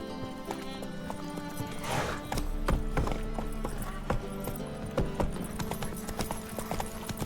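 Witcher 3 video game horse Roach trotting, steady rhythmic hoof clip-clops on hard ground, close and clear with a brief whinny and snort amid game ambience.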